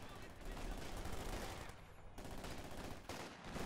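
Quad 50 machine gun fire in the strategy game Company of Heroes, a dense, continuous roar of rapid shots with brief dips, mixed with battle noise.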